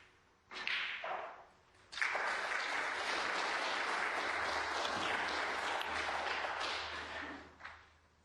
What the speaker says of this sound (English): The applause you can hear emanates from table 3.